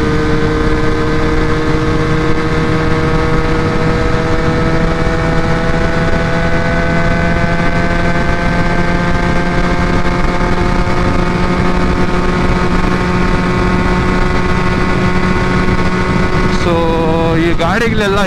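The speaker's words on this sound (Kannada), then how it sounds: "ಆ್ಯಂಡ್ ನಮ್ಮ ಗಾಡಿ ಎಕ್ಸಾಸ್ಟ್ ಮಾತ್ರ ಸಖತ್ತಾಗಿದೆ ಗುರು" A motorcycle exhaust drones steadily while riding on a morning ride to Nandi Hills, a loud constant engine note with a sustained low hum and wind, shifting briefly near the end.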